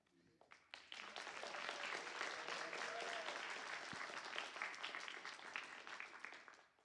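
Audience breaking into applause at a live performance event, a full, sustained wave of clapping that starts abruptly and tapers off, with faint voices mixed in.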